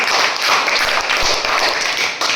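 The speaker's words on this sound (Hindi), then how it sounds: "ताली बजाओ इसके लिए भाई" A classroom of students claps together in steady, dense applause, loud and close, holding for a couple of seconds with no talking over it.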